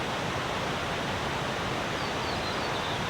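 A river rushes beside a campsite in the New Zealand Alps, a dense, steady roar of flowing water filling the air close by with no pauses.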